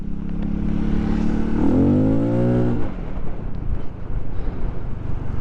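A Royal Alloy GP300 scooter fitted with a Tasso performance exhaust revs up from idle, its note climbing and holding loud for about a second before dropping back to a rough, wind-buffeted idle up close.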